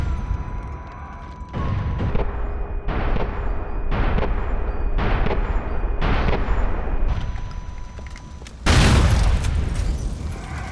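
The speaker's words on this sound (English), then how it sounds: "It comes in two variants, one being a normal shotgun and the other having explosive slugs." Explosive-slug shotgun blasts in GTA: The Ballad of Gay Tony, a series of heavy booming shots in quick succession with a louder final blast, each followed by a brief rumbling tail.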